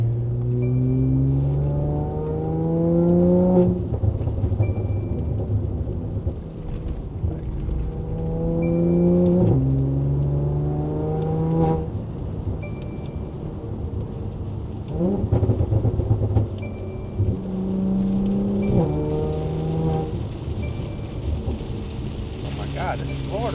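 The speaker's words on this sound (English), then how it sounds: "God, this Florida rain is crazy." Heavy Florida rain pours steadily with rolls of thunder, while a car engine rumbles and idles underneath throughout.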